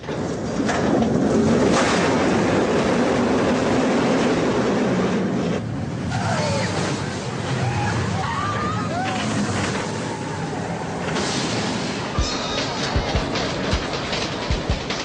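The Oblivion roller coaster at Alton Towers rumbles along its chain lift, pauses, then releases and plunges; a loud continuous mechanical roar and rattling fill the scene, with muffled voices and screams mixing in later.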